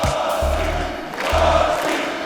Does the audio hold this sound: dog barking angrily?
no